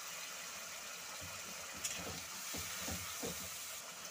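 Onion, garlic and chili fry with turmeric in a pan for a Bengali loti and prawn dish, a soft continuous sizzle with a few scraping stir sounds, fairly quiet and up close.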